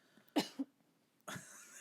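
A single sharp cough with a quick second burst, followed by a breathy throat-clearing sound, close and quiet in an otherwise silent room.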